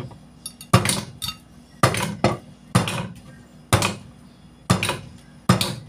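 Garlic and shallots are chopped coarsely with a knife on a cutting board, giving sharp, irregular knocks in loose groups of one to three with short gaps, close and loud, with no talk.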